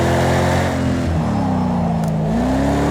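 A Ford Mustang engine drifting in a racing game, a steady loud close drone whose pitch dips and then climbs again as the revs shift, with no talk.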